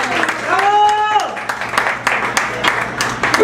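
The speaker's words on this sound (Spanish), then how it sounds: "Fuerte el aplauso para el señor Mario Moreno Cantinflas" Applause breaks out at a karaoke show for a Cantinflas impersonator, a dense spatter of clapping running under a loud announcer's voice and some sung or drawn-out tones early on.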